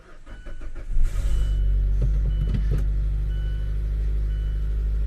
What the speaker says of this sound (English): Motors on these sound kind of crappy anyways.